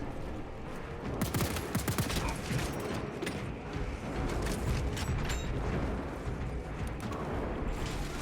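Sustained heavy fire from defensive cannons in Warhammer 40,000: Space Marine 2, a dense continuous barrage of rapid booming blasts and rumble, loud and unbroken throughout.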